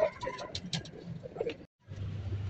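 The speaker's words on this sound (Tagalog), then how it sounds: "mga Stanley Boy, may kalapati na ako" Pigeons cooing close by in a loft of racing birds, soft repeated throaty calls that break for a moment and then return with a low steady murmur.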